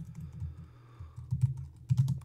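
Typing on a computer keyboard, a close run of soft key clicks with louder bursts of keystrokes toward the end, no voices.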